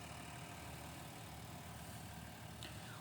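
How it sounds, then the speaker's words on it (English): A 2020 GMC Sierra 1500 Elevation with a Duramax turbo diesel idles outside, a steady, fairly quiet low rumble with no talk over it. "Duramax engine."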